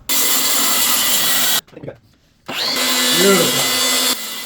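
Track saw cuts through laminate in loud, steady bursts of high whirring, stopping briefly in a near-silent gap before spinning up again; a voice speaks a single word over the noise.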